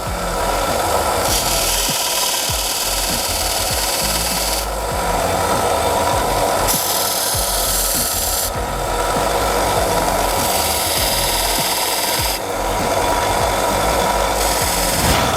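A benchtop band saw, one of the BZ106, SB46 or SB120 models, cuts through wood with a loud, continuous rasping whine that surges and eases in passes, with no voices.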